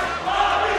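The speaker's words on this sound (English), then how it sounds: "the crowd cheer here" A boxing crowd at a heavyweight bout cheers and roars, a dense burst of many voices lasting under a second.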